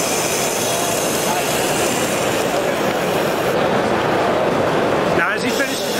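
A Work Sharp Ken Onion knife sharpener running a 65 micron (about 220 grit) belt against a blade edge, a steady loud whirring grind that continues without a break, with a brief change in tone near the end.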